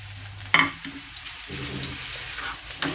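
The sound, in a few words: chicken being stirred into spices in a pan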